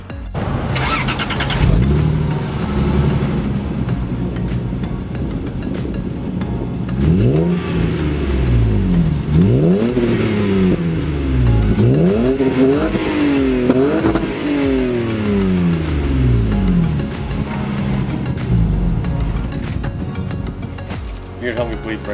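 A Lexus IS300 fitted with a Tanabe exhaust and Megan Racing pipe, idling and then revving in repeated rising and falling bursts, loud and close, with a steady engine drone throughout.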